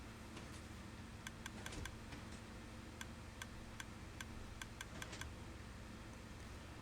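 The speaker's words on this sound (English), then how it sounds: "once we stop hearing clicking, that means that we are going to get our card back" A Minecraft card machine gives off faint, quick clicks in small irregular bursts over a low, steady background hum.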